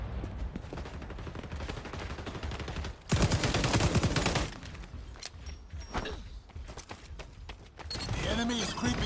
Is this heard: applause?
no